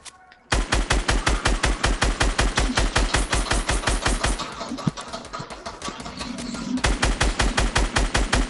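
Sustained automatic gunfire in a video game, shooting down a built structure: a loud, fast, evenly spaced rattle running almost continuously, briefly thinning in the middle before resuming at full pace.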